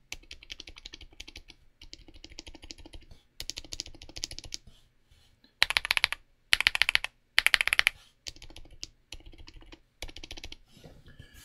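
Quiet typing on Outemu Tom Silent Tactile mechanical keyboard switches, soft muted keystrokes in irregular bursts with a few louder rapid flurries, close and alone with no talking.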